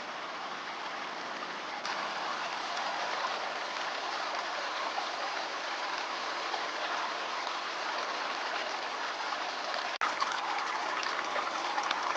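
Creek water rushes steadily in a continuous broadband wash on a sunny morning, loud and close, with a brief knock near the end and no voices.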